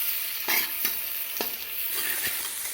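Onions frying in oil for an egg curry, a bright steady sizzle with several distinct scraping strokes of a spatula stirring the pan, near and fairly quiet, no speech.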